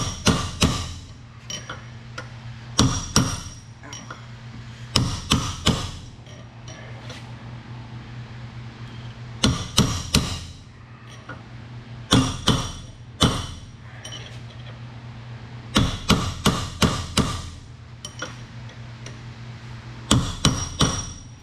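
Hammer blows ring on metal while replacing a PTO seal on a 1947 Ford 2N tractor, coming in sharp clusters of two to four strikes every couple of seconds over a low steady background hum.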